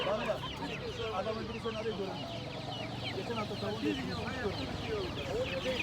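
Many chickens cluck and a rooster calls at a poultry market in Taşköprü, Kastamonu, Turkey, amid a busy, noisy crowd, with people talking in Turkish throughout in a dense, continuous din.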